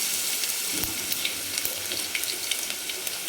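Coarsely crushed garlic cloves fry in hot oil, giving a steady sizzling hiss dotted with quick, light pops and crackles, close by and without talk.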